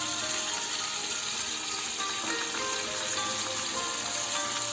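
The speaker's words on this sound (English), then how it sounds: "After sauteing for 30 seconds, now I'm going to add some chopped tomato and some chopped long beans." Chopped tomato and long beans sautéing in a hot pan, a loud, constant hissing sizzle with fine crackling spatter that holds steady from start to finish.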